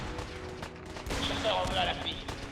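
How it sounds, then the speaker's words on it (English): Explosions and bursts of gunfire rumble and crackle through a Fallout 4 speedrun, a dense ongoing barrage beneath a voice. "this sequence involves like a lot of explosions and stuff going on around us"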